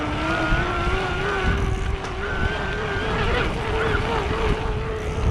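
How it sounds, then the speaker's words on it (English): Raleigh Tokul iE electric mountain bike motor spinning at high RPM, a steady whining zing that holds a rising tone over wind and tire rumble while riding. "You could hear the motor like zinging a little bit."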